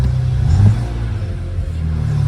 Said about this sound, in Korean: 냉간 시동이고요